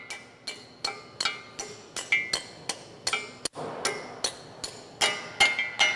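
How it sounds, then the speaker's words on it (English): Steady hammer blows drive an anchor into the frame of a JD Squared RC6 rotary cutter, about fifteen sharp metallic strikes at a brisk, even rhythm with ringing clinks, close and alone. "I'm hammering it down."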